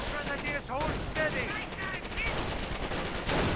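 MG-42 machine gun fire in the Company of Heroes strategy game, a fast continuous rattle of rapid shots under a caster's commentary, with other battle noise mixed in.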